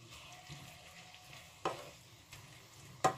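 Burger mixture with onion cooks in a little oil in a pan, with a faint low sizzle and a few sharp scraping stirs, quiet and close, no voices.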